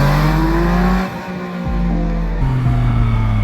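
Engine of a 2022 Yamaha MT-09 motorcycle during a practice wheelie with lift control, loud and close, revving high, briefly cutting out and dropping, then surging back in two bursts.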